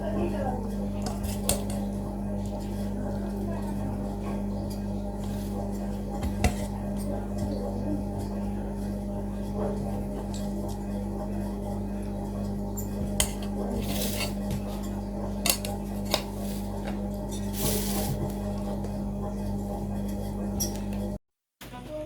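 Someone eats a home meal of meat, fried vegetables and gourd from a plate, with faint cutlery and dish clinks scattered over a steady room hum.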